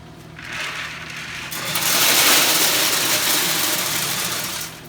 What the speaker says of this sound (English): run the auger through the prime until it starts putting pellets in there